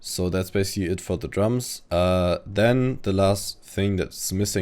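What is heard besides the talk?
None of the usual background noises is heard.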